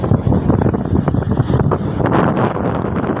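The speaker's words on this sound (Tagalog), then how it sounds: "Oh, ang hangin." Strong wind from Typhoon Maring in Cagayan, near an airport, roars loudly and buffets the microphone throughout in rough, continuous gusts, with no voices.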